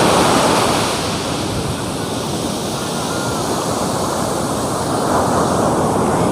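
Strong sea waves surge onto the beach at Puri in the morning, a loud, continuous roar of surf that swells slightly at the start and end, with no talk.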